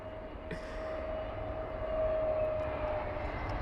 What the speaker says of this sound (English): Bit of a bounce there for the BA320 Neo touching down.